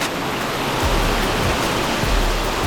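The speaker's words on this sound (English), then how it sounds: "Rain, a lot of it, very quickly," Heavy rain pouring fast enough to overpower the gutters on a farm during a warm-day storm, a dense continuous hiss with rushing water, steady and close with no voices.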